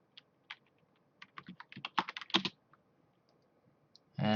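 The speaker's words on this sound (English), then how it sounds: "It's because I was typing." Short bursts of keystrokes on a computer keyboard during video editing, quick irregular clicks building to a flurry mid-clip, then a few isolated taps before a louder sound at the end.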